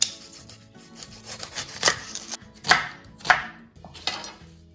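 An onion is roughly chopped on a board for chickpea falafel, a series of close, crisp knife strikes landing in an uneven rhythm with short pauses between bursts.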